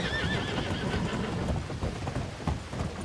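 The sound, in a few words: horse neighing in a video game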